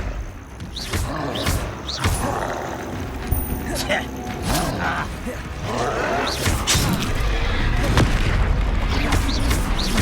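Fire and explosion spell effects from the Hogwarts Legacy video game, with repeated bursts and booming impacts through a dense, continuous combat soundscape while someone speaks over the action.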